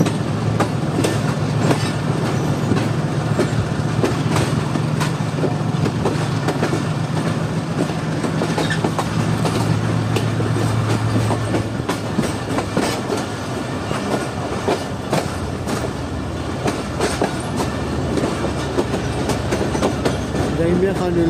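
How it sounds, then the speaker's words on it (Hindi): A Tezgam passenger train running on the tracks between stations, heard from on board with a steady loud rumble and rhythmic clickety-clack of wheels throughout, with faint wheel squeal now and then. "जामिया खान रेलवे स्टेशन को अलविदा कह दिया है ट्रेन ने और अब आगे बढ़ेंगे अपने नेक्स्ट हॉल्ट यानी डोरी की तरफ।"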